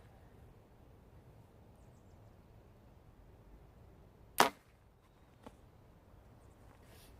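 An arrow shot from an Elite Impulse 34 bow at a 140-meter range, heard as one sharp snap followed by a fainter second click, with steady outdoor background hiss and no talk.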